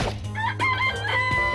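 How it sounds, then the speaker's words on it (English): Chickens cluck and a rooster crows in the Danganronpa video game, a loud, close burst of several clucks and a short crow with no talking. "It's a chicken. It's really alive, right?"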